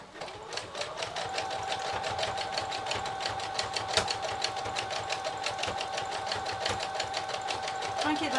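A sewing machine runs steadily as it stitches fabric for a Christmas Santa cushion, with a fast even needle rhythm sustained for several seconds close up, and a voice talks over it.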